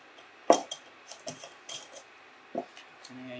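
A lid set onto a small tea light container: a sharp clatter of light metal or plastic parts, followed by a few softer taps and scrapes close by, all fairly quiet.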